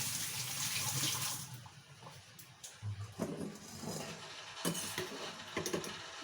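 Cooked papaya strained under water, with splashing running water at first, then quieter wet shuffling and a few knocks of pieces against a strainer, no talk.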